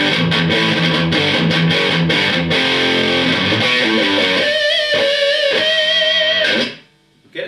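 A Soldano Astroverb 16 1x12 combo amp plays a heavily distorted electric guitar, with presence and bass at full and mids off. The chords and riffs are loud and thick, then cut off abruptly near the end.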